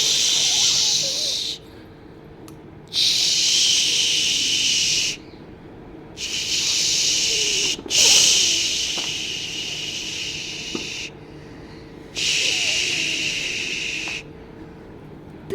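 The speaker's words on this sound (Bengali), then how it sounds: "এবার মামা বেগুনগুলো ভেজে নেবে।" Eggplant slices frying in hot oil give a loud, steady hiss that cuts out and resumes in several long bursts, with brief quiet gaps between them.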